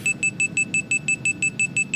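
Overspeed warning in the FSX flight simulator: a rapid, regular electronic beep repeating about six times per second, loud and steady, with no talking over it.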